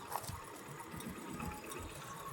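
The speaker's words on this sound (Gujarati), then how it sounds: "અહીંયા કેનાલમાં પણ ઘણું બધું પાણી જાય છે" Water rushing steadily through a canal beside the Shetrunji dam in Gujarat, a continuous broadband wash heard close and moderately loud with no pauses.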